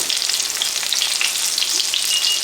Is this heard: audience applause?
no